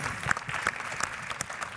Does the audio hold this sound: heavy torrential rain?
no